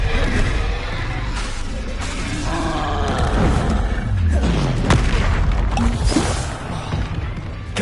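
Spell blasts from Confringo and Expelliarmus in Hogwarts Legacy land in a rapid series of heavy booms and whooshing bursts, with roaring creature growls mixed into the busy combat din.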